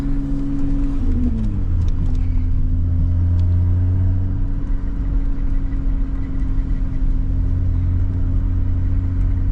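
A 1990 BMW 325i engine drones in a steady, close rumble throughout, its pitch dipping briefly early on before settling into an even hum, with no talk over it.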